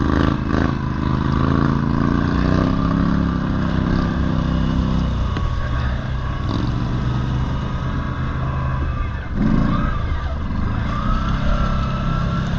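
A Can-Am 450 XMR ATV revs hard as its wheels spin in a sandy bottom, a loud, steady engine drone close by that dips briefly and climbs again.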